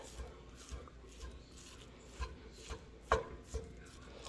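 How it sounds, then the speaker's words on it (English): A knife chops onions on a board in irregular soft thuds, close and quiet, a few sharper knocks standing out among lighter cuts. "I'm going to chop up some onions and throw that in there"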